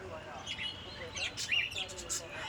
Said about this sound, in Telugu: మార్నింగ్ మా బర్డ్స్ అయితే గుడ్ మార్నింగ్ చెప్తూ వెల్కమ్ చెప్తాయి